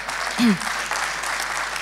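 An audience applauds at an awards ceremony as a trophy is handed over, a steady, moderately distant wash of clapping, with a brief low voice or tone rising near the start.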